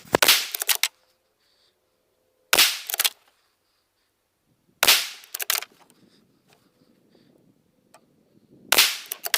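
Four sharp rifle shots from a 6.5 Creedmoor firing 120-grain TXRG ammunition, each a loud crisp crack with a short ringing tail, spaced a couple of seconds apart outdoors with no talk.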